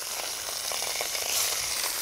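Shrimp sizzle and crackle steadily in a hot oiled pan, a dense, close hiss with small pops, no voices.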